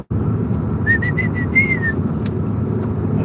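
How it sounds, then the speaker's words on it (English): A person whistles to call dogs, a short series of clear, rising whistle notes over steady low background rumble, close and fairly loud. "That's my whistle for the dogs."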